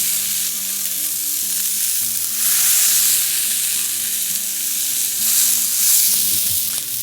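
Burger patties topped with a generous heap of onions sizzle steadily on a hot griddle for Oklahoma fried onion burgers, a loud, continuous crackling hiss that swells twice, with no talking.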